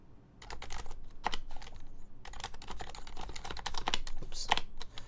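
Fast, steady typing on a modded HHKB keyboard with switches lubed with 3204, stabilizers with 205 and stock OEM keycaps, giving close, crisp keystrokes in irregular bursts with brief pauses.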